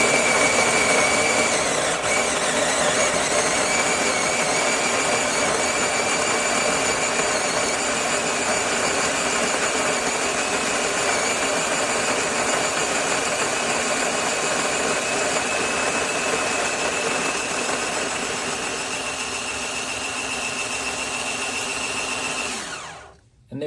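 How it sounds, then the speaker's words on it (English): An Olayks conical burr electric coffee grinder runs for a shot's worth of coffee, a steady loud whirring hum close by that holds for over twenty seconds and then cuts off abruptly, no talk. "We're gonna grind"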